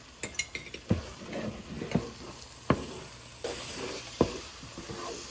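Ghee spooned into nearly finished carrot halwa (gajrela) in a kadai hisses and sizzles steadily, broken by several sharp clinks of a metal spoon against the pan, close and fairly loud with no one speaking.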